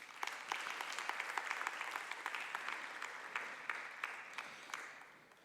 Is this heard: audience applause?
yes